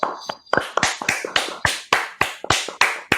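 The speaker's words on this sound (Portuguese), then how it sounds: "sendo recebido por vocês dois com uma salva de palmas" A small studio audience claps to welcome a guest at a StoryTalks Café talk session, about a dozen sharp, evenly spaced claps ringing out close and loud, with no talking.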